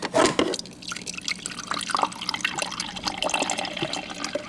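Water running and dripping into a container, an opening splashy pour followed by scattered drips and trickling sounds, close and fairly soft throughout.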